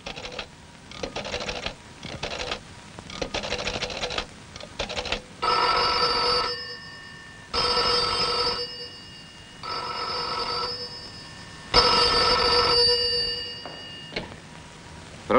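An old telephone bell rings in repeated loud bursts with short pauses between them, alone, at a prefect's office as a call comes in from the archbishop's palace.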